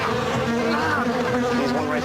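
Bees buzz steadily throughout in a Subway honey-oat bread commercial, a close, continuous droning hum with shifting pitch as insects hover near.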